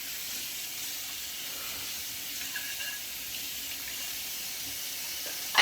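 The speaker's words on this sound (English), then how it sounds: "I'm about to drain the noodles." Water rushes steadily into a kitchen sink as noodles are drained, a continuous hissing splash close by that holds an even level throughout.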